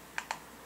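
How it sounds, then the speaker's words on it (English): Two crisp key clicks on a computer keyboard as a password is typed, close and distinct against a quiet room background, with no talking. "Type in your password."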